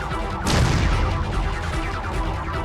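A loud video-game explosion goes off near the half-second mark as a sudden broadband blast, then a lingering rumble and debris noise roll on steadily to the end, with no one speaking.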